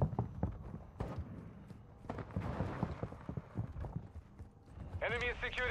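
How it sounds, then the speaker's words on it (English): Footsteps in Call of Duty Modern Warfare II multiplayer: a run of quick, close, thudding steps through most of the clip, with gameplay sounds around them and a short burst of voice near the end. "There are a lot of footsteps yep, on my level."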